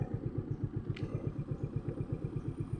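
Motorcycle engine on a ride toward a mountain in Dumalag, Capiz, a close, steady low thrumming with regular pulsing firing beats throughout and a brief faint clink partway through.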